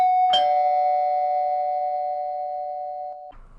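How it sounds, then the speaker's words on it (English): A single electronic doorbell chime rings close and clear, a sharp strike followed by a long sustained tone that slowly fades, ending with a soft thud. "they approached Rachel's front door and rang the doorbell"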